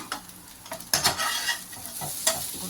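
Podi idli gets tossed in a hot pan with coriander leaves, with repeated close scraping and clattering stir strokes in an uneven rhythm over a soft background sizzle, and no voices.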